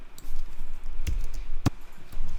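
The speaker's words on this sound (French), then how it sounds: "Donc pendant qu'on trace l'étoile avec les flèches au clavier," Arrow keys tapped on a computer keyboard while drawing a star shape in Adobe software, a few sharp, separate clicks over a low background hum.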